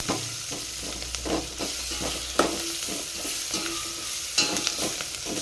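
Potatoes for alu fry sizzle in a pan as a utensil stirs them in repeated scraping strokes, a close steady frying hiss with clacks against the pan and no speech.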